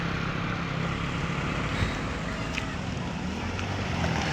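Steady broadband wind rush buffeting the microphone while jogging at a hilltop overlook, continuous and fairly loud, with a faint low rumble underneath and no voices.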